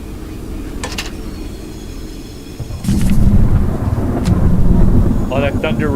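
Thunder rumbles through a spooky video game, a low broadband roll that swells midway and holds loud, with faint crackles and brief higher sounds scattered over it; no one speaks.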